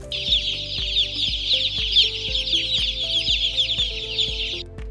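Baby chicks in a warm brooder cheep continuously in a dense, high chorus, with steady loud peeping throughout and no talking.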